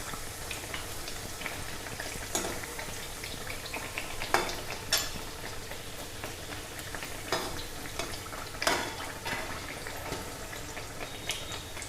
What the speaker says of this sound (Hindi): इसको बहुत ज़्यादा तेज़ आंच में हमें नहीं फ्राई करना है, मीडियम आंच पर ही फ्राई करना है